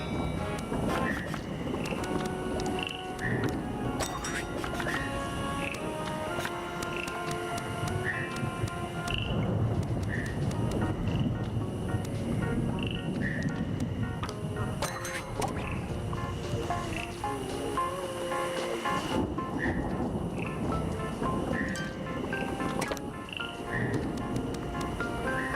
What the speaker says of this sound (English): Weather report. It's raining frogs.